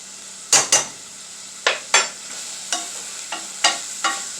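Vegetables and ham heating in a pot for Puerto Rican beans, with a handful of sharp, close scrapes and clinks as they are stirred, each followed by a short fading sizzle, spaced irregularly with quiet gaps between.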